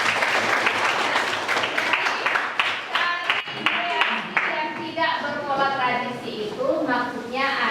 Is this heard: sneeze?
no